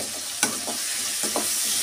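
Tomatoes for a Telugu ridge gourd chutney fry in a hot pan with a steady sizzle, and a spoon gives a few quick scraping strokes while stirring. The sound is close and even, with no talking.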